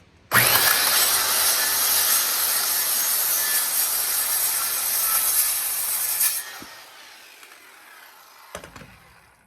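Wooden boards for a raised garden bed being cut with a power saw, a loud steady whine lasting about six seconds, then stopping, followed by a couple of faint knocks.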